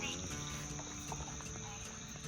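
Crickets chirp at night by a lake, a steady high insect trill running throughout with faint croaks and scattered low rustles beneath, fairly quiet and continuous.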